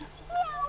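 A house cat meows faintly in the background during a phone call, a short tonal cry rising above a low steady hum with no talk over it.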